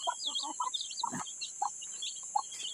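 Chickens cluck and chirp faintly in the background, a scatter of short calls with a steady high hiss behind them and no talking.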